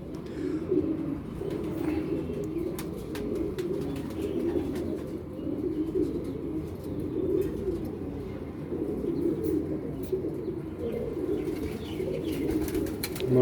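A pigeon that has just been drinking spilled water from the ground coos steadily in low, repeating throaty rumbles, close and continuous with faint ticking noises over the top.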